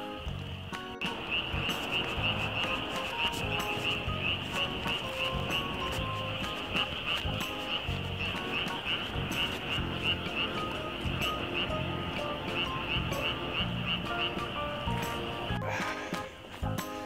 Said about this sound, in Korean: 개구리 소리가 들립니다